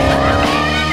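A Maserati engine on test with its sport exhaust valves open gives a loud, steady, gritty roar with a strong tonal drone. It sounds close and continuous and lasts about a second, with no voices.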